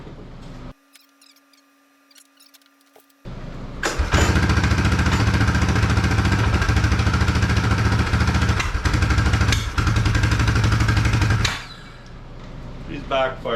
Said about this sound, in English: She's backfired through the carb.